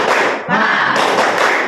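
A classroom group does a rhythmic chant-and-clap cheer: a loud, dense wash of many hands clapping together, close and continuous for a brief moment.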